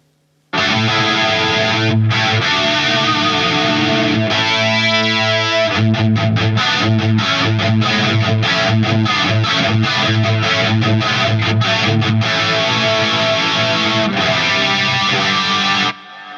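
Electric guitar played through the 70s chorus setting of a Flamma FX200B multi-effects pedal, a loud, steady stream of shimmering, slightly gritty chords and notes that starts abruptly and stops near the end, with no voices.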